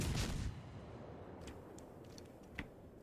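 Naval artillery fire in World of Warships, a heavy booming salvo at the start that rolls off into a low rumble, followed by a faint distant report later on.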